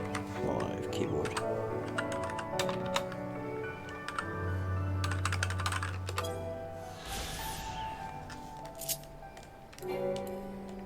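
Computer keyboard keys clatter in quick irregular bursts during a Final Fantasy XIV Stormblood session, close and fairly crisp, mixed with game music and sound effects while a person talks at times.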